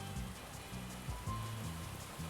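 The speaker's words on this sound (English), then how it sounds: "it starts to pour. The rain seems to be coming sideways." Heavy pouring rain from the video game Maitetsu hisses as a dense, steady wash, faint and even, under a soft low melodic tone that steps through a repeating pattern.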